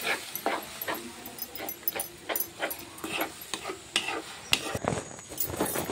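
Cucumber pieces stirred into roasted semolina in a pan, giving a steady run of soft scraping and light sizzling strokes that repeat at a fairly even pace, close by, with no talking.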